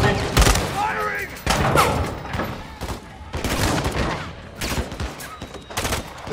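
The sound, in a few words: gunfire in Call of Duty Modern Warfare II video game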